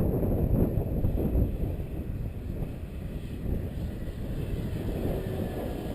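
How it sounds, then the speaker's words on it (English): Heavy crosswind gusts buffet the microphone at an RC airfield, a steady low roar that surges and eases throughout with no other clear sound over it. "Nah, that's just the wind."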